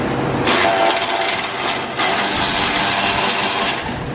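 A part is pried up during front strut replacement on a Dodge Journey, giving loud close scraping, cracking metal-and-wood-like noise in two bursts with a brief lull between.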